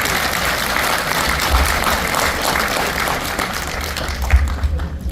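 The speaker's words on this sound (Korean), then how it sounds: "큰 박수 부탁드립니다." Steady applause from an audience at a church elders' general assembly installation ceremony fills the room, a dense wash of clapping that continues without pause and fades slightly at the end.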